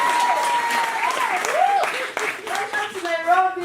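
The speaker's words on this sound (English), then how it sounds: "Clap again." An audience at an anniversary celebration event claps, a fairly loud burst of applause heard together with lively voices and cheering.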